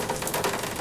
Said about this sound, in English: I've got a rain loop in the background